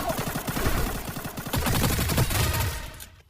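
Rapid bursts of automatic gunfire in the Free Fire mobile shooter game, loud and dense, with shots rattling continuously for about three seconds before fading.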